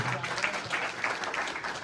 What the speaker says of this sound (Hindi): इनके लिए जोरदार तालियां बजाएंगे।